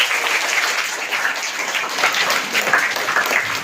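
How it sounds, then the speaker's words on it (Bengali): A classroom audience applauds steadily at a school lesson on cylinder volume, a dense, even patter of many hands clapping throughout, fairly loud and close, with no talk over it. "সবাই একটা জোরে করতালি দেই।"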